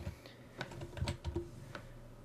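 Typing on a computer keyboard, a short burst of close, soft key clicks in an irregular rhythm, heard alone.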